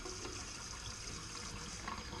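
Water runs steadily from a newly installed Kohler Koi kitchen faucet on city water pressure, a continuous soft hiss without pauses and no talking.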